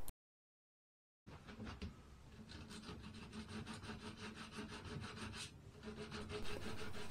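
Steady rubbing and scraping on wood from wiping fluff off the front edge of a model railway layout near freshly drilled holes, continuous close and fairly loud after a brief silent opening, with no talking.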